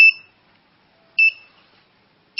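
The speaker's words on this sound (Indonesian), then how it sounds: "Di bawah kelembaban di bawah rata-rata yang kita setting, sehingga alarm berbunyi." A low-humidity alarm on an automatic egg incubator beeps in short, high electronic bursts about every 1.2 seconds, clear and alone in an otherwise quiet room.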